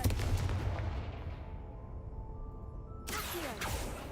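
A Confringo spell explosion in a video game: a loud blast with a long decaying rumble, then a second sharp burst near the end.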